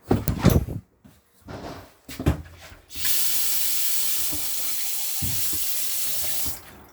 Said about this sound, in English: you can now run the taps, getting the air out of the system